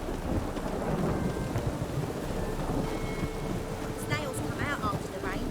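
Steady rain with a low rumble of thunder beneath it in The Witcher 3: Wild Hunt, then a few brief bird-like chirps near the end.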